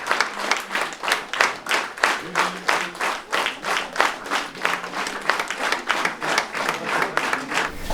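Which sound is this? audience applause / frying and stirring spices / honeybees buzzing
audience applause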